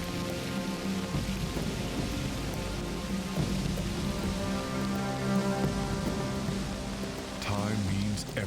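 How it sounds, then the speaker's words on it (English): A drenching rainy-season downpour in Africa pours steadily and loud. Thunder rumbles through it, and a few other faint sounds are mixed in. "the rainy season is right on schedule, with drenching downpours almost every day."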